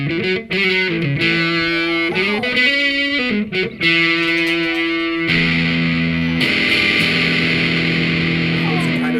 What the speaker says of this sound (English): here is the sound when we put on the distortion